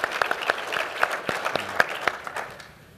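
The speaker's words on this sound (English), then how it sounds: "So let's give him a round of applause." An audience applauds at a military strategy discussion of the Indo-Pacific and landpower, with a steady stretch of clapping of moderate loudness that thins out and fades at the end.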